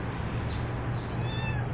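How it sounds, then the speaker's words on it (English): A frightened, hard-to-catch kitty caught in a trap gives a single drawn-out meow over a constant low hum, close and fairly loud. "today we got, who do we have back here? A little kitty."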